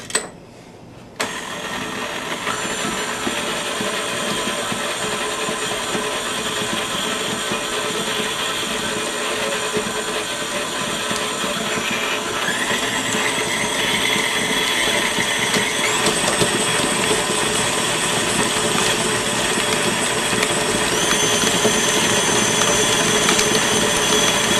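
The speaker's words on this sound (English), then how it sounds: "And we're going to cream all that together." An electric stand mixer creams butter, powdered sugar and vanilla for cookie dough, a steady motor whir starting abruptly and running continuously, with slight pitch shifts as the speed changes.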